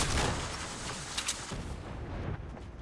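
Rapid gunfire from a shooter match in Fortnite: Battle Royale, a dense, loud burst of shots and booms that runs almost continuously for a few seconds with no talk over it.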